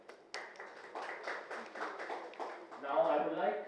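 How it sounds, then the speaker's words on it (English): Audience applause at a press meet for a fight club promotion in Delhi, heard as a short burst of scattered, fairly close hand claps that thickens toward the end, with a voice speaking over it. "Can we have a round of applause for Mr."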